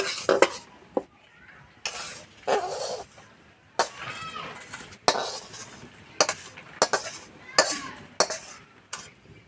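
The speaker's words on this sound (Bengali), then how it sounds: "এইভাবে পাঁচ মিনিট মতো ভেজে নিয়েছে ভাজা হয়ে গেছে এবার নামিয়ে দেবো" Semolina being roasted in a pan, with a utensil scraping and stirring in repeated sharp strokes over a soft background sizzle, close and fairly loud with no talk.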